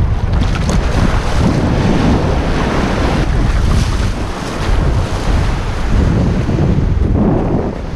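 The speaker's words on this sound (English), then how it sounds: "Look at that white water coming this way." White-water waves from a boat wake wash across open water around a Jackson Kraken 15.5 Elite kayak, a loud continuous rushing of surf mixed with heavy wind buffeting on the microphone.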